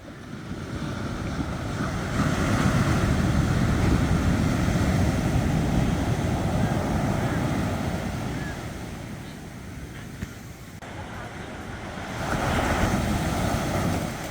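Surf rolls onto the beach at Uluwatu, a continuous roar of breaking ocean waves swelling and easing in long surges, with wind buffeting the microphone.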